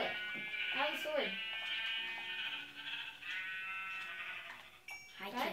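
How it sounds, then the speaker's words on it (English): Sheep bleating in the Minecraft video game, a few wavering bleats in the first seconds with another near the end, heard under and between people talking. "Sheep!"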